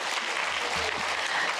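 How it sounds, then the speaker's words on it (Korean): Church congregation applauding together during a Korean worship service, a steady broadband clatter of clapping heard alone for a short moment at moderate volume. "박수하겠습니다."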